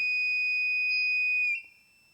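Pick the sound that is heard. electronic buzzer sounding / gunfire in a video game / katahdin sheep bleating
electronic buzzer sounding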